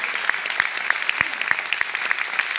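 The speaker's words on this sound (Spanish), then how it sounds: "Un fuerte aplauso para todos ellos." Theatre audience applause at a show's final bow: fairly quiet, scattered claps with distinct individual hand claps standing out in an uneven rhythm.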